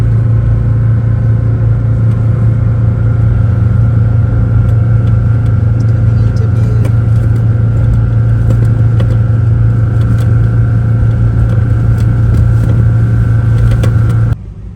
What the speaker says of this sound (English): there goes another ferry the other way